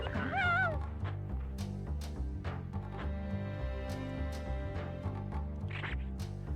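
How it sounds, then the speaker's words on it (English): A dog barks and yips in the PlayStation game Tenchu: Stealth Assassins, a short burst of yelping barks at the start over a looping game music track with percussive hits. "Oh, I see a dog."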